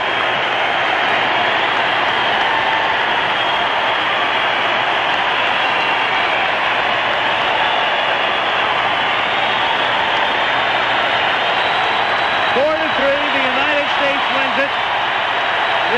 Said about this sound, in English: The crowd still roaring